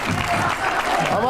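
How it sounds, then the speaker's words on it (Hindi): Loud applause for Kanhaiya Kumar at a studio gathering with senior editors, with a voice talking over the clapping throughout. "जोरदार ताली एक बार फिर से कन्हैया जी के लिए।"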